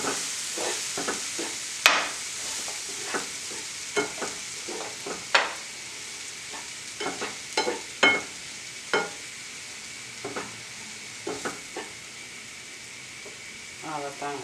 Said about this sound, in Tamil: ரவை வந்து ரொம்ப வறுக்க தேவைப்பட வேணாம்